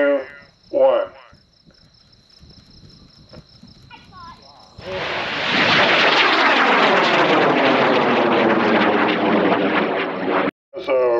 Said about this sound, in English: There's a rocket called Lotus. Flying on a G-74.